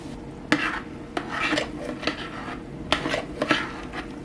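A spoon scrapes boxed pasta stuck to the bottom of a hot pot of boiling water, a handful of sharp, uneven scrapes and knocks spaced apart over a low bubbling background.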